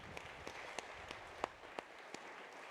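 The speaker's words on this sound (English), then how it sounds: "So that's worthy of applause." Faint, sparse clapping from a small audience at an executive luncheon, scattered individual claps spread over a few seconds, quiet and somewhat distant.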